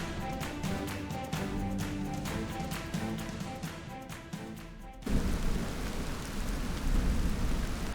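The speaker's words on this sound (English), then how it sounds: "very rainy, wet day out there" Steady heavy rain pours down on a very wet day on a remote island off-grid build site, a dense continuous hiss that grows louder and rougher partway through, with no voices.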